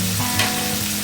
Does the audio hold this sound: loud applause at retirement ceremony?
no